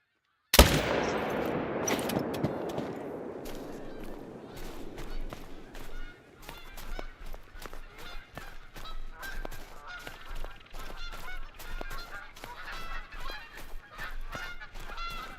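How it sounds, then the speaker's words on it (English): Flock of Canada geese honking in The Hunter: Call of the Wild, a loud sharp shot-like burst at the start followed by many rapid overlapping honks and calls continuing at moderate distance. "That's snow geese or Canadian geese? Canadian."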